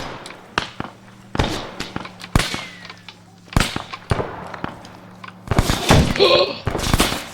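Gunfire in the military video game Arma 3 comes as sharp single shots spaced irregularly, then a heavier cluster of blasts near the end, with players talking between them.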